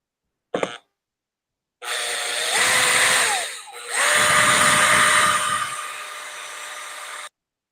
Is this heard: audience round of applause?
no